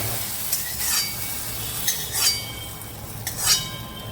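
Water drips into a hot wok where steamed arum root and potato are cooking, giving several short bursts of sizzling hiss over a low background hum.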